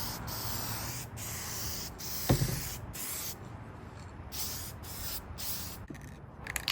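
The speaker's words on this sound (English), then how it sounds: "I then sealed it in with a vinyl sealer." Mohawk Easy Vinyl Sealer sprayed onto a mid-century furniture piece, a steady close hissing spray broken by several brief pauses between bursts.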